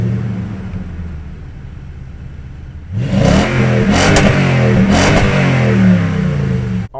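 A 2018 Toyota Tundra's 5.7-liter V8 sits in a low rumble, then about three seconds in rises into a loud, sustained acceleration with rising revs and gear-change surges, close and alone without talk.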